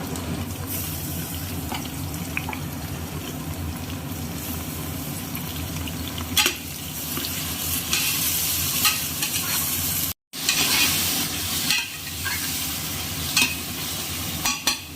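Onions sautéing with ginger garlic paste in a pan, a constant close sizzle under repeated stirring and scraping, with a few louder clatters and one brief dropout partway through.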